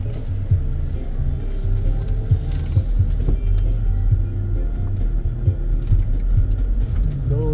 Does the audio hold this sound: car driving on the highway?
yes